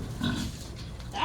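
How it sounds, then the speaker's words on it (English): Red Wattle pigs grunting as they feed, a couple of close, low grunts and snuffles over a steady farmyard background, with a rising squeal near the end. "You gotta fend off the bigger pig."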